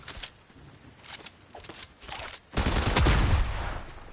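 Rapid bursts of video-game gunfire from Fortnite's Pump and Dump SMG-shotgun, a few clipped shots early followed by a louder, sustained volley near the end.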